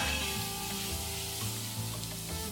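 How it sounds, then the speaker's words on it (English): Garlic, ginger, green chillies and cashew nuts frying in a pan, a continuous close sizzle with a few soft stirring scrapes, no speech. "And now let's fry this for another 2 to 3 minutes."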